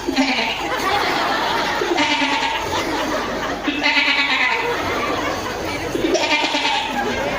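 A man imitates a goat, letting out several loud, wavering bleats in a row, with a little laughter in between.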